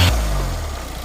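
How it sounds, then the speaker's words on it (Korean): A 2019 Kia Carnival turbo with 85,000 km runs with a steady, close, low engine hum that settles after a brief louder moment at the start, with no talk over it. "카니발 엔진 소음을 한번 들어보십시오."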